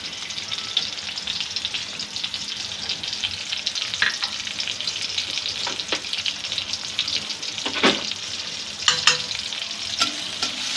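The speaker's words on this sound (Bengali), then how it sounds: "কিছু পরিমাণ শুকনো মরিচ, ব্রাউন কালার পর্যন্ত আমি নাড়াচাড়া করব।" Bay leaf, onion and garlic sizzle steadily in hot oil while being stirred in a pan, with scraping clicks of the spoon at irregular moments over the continuous frying hiss.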